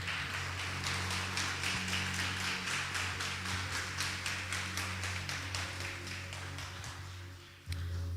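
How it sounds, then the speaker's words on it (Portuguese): A church congregation applauds steadily, with dense, rhythmic clapping that carries evenly over a low hum for several seconds, fading slightly near the end before a sudden shift in the room sound. "Pode aplaudir ao Senhor"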